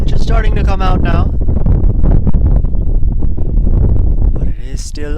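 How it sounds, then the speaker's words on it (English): Blustery wind buffets the microphone with a steady low rumble while people talk over it throughout, at an outdoor cricket match. "But it is still very windy."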